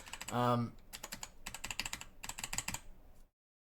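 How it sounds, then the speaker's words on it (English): Typing on a Cooler Master CK552 full RGB mechanical gaming keyboard: a steady run of crisp, close key clicks after a brief low thump, with no talk. "It's a full RGB mechanical gaming keyboard."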